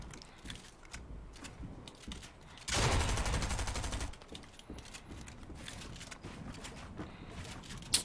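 Burst of rapid gunfire in the video game Fortnite, a loud dense volley lasting about a second and a half amid quieter game sounds and clicks.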